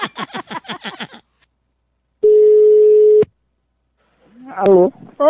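A telephone call tone: one steady, loud beep lasting about a second, alone between stretches of people talking on the line.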